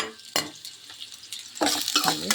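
Onions go into chicken frying in a pan and get stirred, with metal spoon scrapes and clanks over a crackling sizzle that swells louder toward the end.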